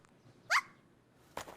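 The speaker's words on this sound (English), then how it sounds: "He sound like a little dog. He a little puppy?" A small dog-like creature in the Chainsaw Man anime gives a short, sharp yip, then a brief rougher bark-like sound follows a moment later, both near and fairly loud against a quiet background.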